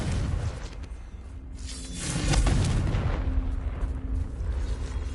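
Confringo fire blast spell cast in the Hogwarts Legacy video game, a loud booming burst with a whooshing rush that swells around the middle and rumbles on under continuous game sound.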